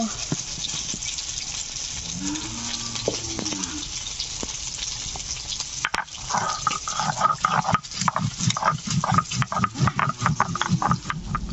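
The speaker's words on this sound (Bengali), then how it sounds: "শুকনো লঙ্কা বেটে নেব।" Dried red chillies being ground into a paste by hand, a rough rhythmic scraping and pounding that grows busier and more insistent in the second half, with no talk over it.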